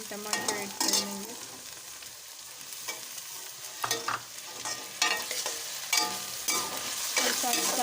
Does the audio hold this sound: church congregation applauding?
no